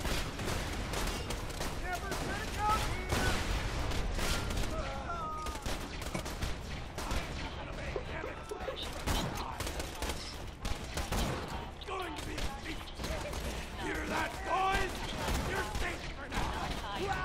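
Gunfire in the video game Borderlands 2 during a co-op firefight, dense overlapping shots and bursts running continuously under excited talk from several players.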